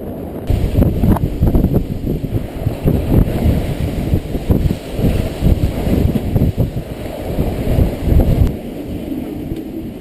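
Strong wind roars and buffets continuously over open sea aboard a sailing boat, loud and rumbling, with gusts rising and falling and no voices.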